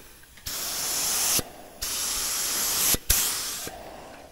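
Spray gun with the air turned down laying watery primer on an F450 7.3 truck, three close hissing bursts of about a second each separated by brief pauses.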